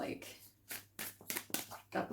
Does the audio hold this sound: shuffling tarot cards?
yes